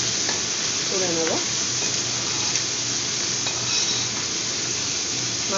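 Bata fish fry in oil in a pan with a steady, close sizzle. Occasional scrapes and clinks of a utensil against the pan come through, and nobody speaks.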